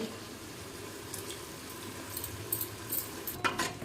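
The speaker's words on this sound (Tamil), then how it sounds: "தயிர் சேர்த்ததுக்கப்புறம் நல்லா மிக்ஸ் பண்ணுவோம்" Yogurt is stirred into a mushroom biryani masala seasoned with garam masala, giving a soft, quiet sizzle and scraping, with a few light clinks of the spoon toward the end.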